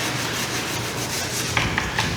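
Scotch-Brite pad scrubbing a Victorian wooden door, a steady close rubbing abrasion with a few sharper scuffs near the end, no talking.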